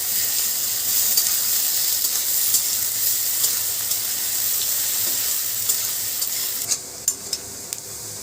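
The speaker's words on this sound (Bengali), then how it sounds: "পেঁয়াজটাকেও আমি একটু লাল করে ভাজবো।" Finely chopped onions fry in oil toward browning in a pan, a dense continuous sizzle with soft stirring and a few sharper utensil knocks near the end, no speech.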